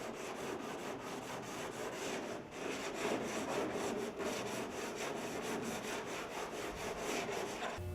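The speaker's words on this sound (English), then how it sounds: "sand the edges with medium 100 grit sandpaper" Steady, continuous abrasive rubbing of 100 grit sandpaper along the edges of body panels, a close, even scratching that runs without pause and with no talk.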